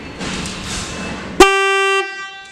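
With its wiring reversed, a Stebel electric horn gives a single loud low-tone blast of about half a second. The blast follows a stretch of quiet hiss and ends abruptly.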